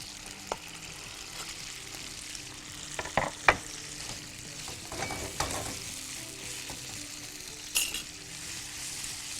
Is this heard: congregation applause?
no